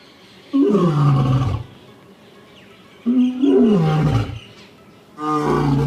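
A lion roars three times in succession, each call a deep, powerful, drawn-out roar separated by brief pauses, loud and close with no talk over it.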